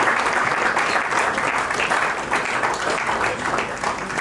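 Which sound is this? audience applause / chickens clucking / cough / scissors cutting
audience applause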